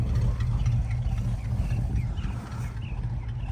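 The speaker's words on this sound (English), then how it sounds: "it's not exactly the most smooth of idles" A 1965 camper's engine idles roughly, giving a continuous low, rumbling drone that stays fairly loud and slightly uneven throughout, with no speech.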